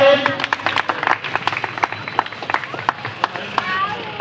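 An audience claps at an Independence Day celebration and flag hoisting at Anand Sahyog Mandal, with a steady run of scattered, uneven claps throughout while a voice talks over the start.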